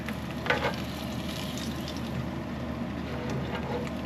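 Smelt fish sizzle and fry in hot oil, a steady crackling hiss with small pops throughout, close and continuous.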